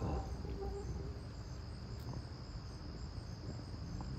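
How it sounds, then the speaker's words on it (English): A steady insect drone, taken to be a cicada, carries on faintly and continuously outdoors with no breaks or voices. "It's a damn cicada."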